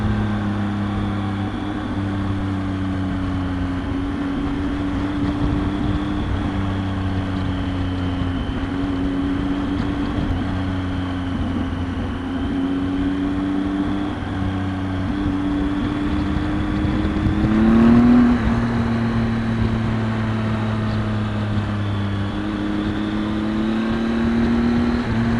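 A Triumph Tiger 800 XCx motorcycle riding through traffic near Jerome, Arizona, its engine droning steadily with shifting pitch as it eases and picks up speed, loud and continuous with wind noise and no talking.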